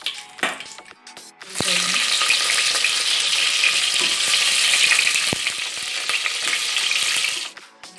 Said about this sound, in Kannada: ಕುಕ್ಕರ್ ಕಾಯ್ದಿದೆ, ಅದಕ್ಕೆ ಎಣ್ಣೆ ಹಾಕ್ತಿದ್ದೀನಿ. ವಾಂಗಿಬಾತ್ಗೆ ಸ್ವಲ್ಪ ಜಾಸ್ತಿ ಎಣ್ಣೆನ ಹಾಕೋಬೇಕಾಗುತ್ತೆ. ಚಕ್ಕೆ, ಪಲಾವ್ ಎಲೆ ಹಾಕ್ಕೊಳ್ತಾ ಇದ್ದೀನಿ.